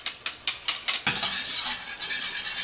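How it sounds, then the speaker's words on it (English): A whisk works flour into ghee in a pan to make a roux, with rapid rhythmic scraping strokes close up. The strokes blur into a continuous swishing stir toward the end, with no talking. "So I can shake both at the same time and sift while whisking and get it in there"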